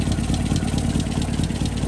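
A petrol four-cylinder engine in a Land Rover Series IIa 88in hardtop idles steadily close by, a continuous even rumble with no talking.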